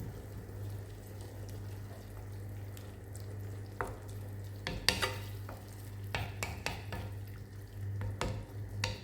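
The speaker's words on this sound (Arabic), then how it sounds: "نحط قيس كاس ماء دافي ولا سخون ونخليه يغلي شويه" Quiet bubbling of water in a pan with onion and mushrooms for a rice dish, with a steady low hum underneath and a few sharp clinks of stirring utensils scattered through.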